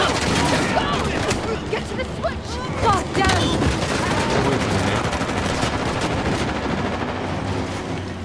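Loud sustained machine gun fire mows down enemies in Uncharted: The Lost Legacy, rapid rattling bursts running throughout, with voices talking over the shooting.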